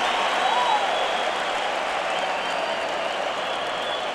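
A US Open 2017 semifinal tennis crowd roars and applauds after a Del Potro forehand against Nadal, a dense, steady wall of clapping and cheering that holds loud throughout.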